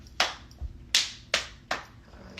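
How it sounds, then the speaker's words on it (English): Four sharp, close hand claps in a slow, slightly uneven rhythm, each followed by a brief decay, in a quiet room with no talking. "So we clap here first"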